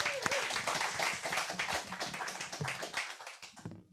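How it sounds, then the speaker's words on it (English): An audience at a product discovery talk claps to welcome a speaker. The dense, close applause stays steady for a few seconds, then thins and trails off abruptly at the end. "A big round of applause."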